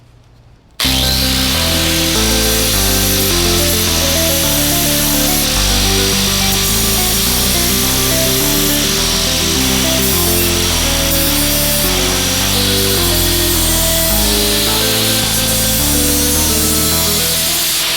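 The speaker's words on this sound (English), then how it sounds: "Now I'm just going to use my medium grip flap wheel in order to, you know, smooth down these edges" A medium grit flap wheel on a power tool grinds down ragged edges, running loud and steady for the whole stretch with a continuous abrasive whir and slight shifts in pitch as it presses into the workpiece.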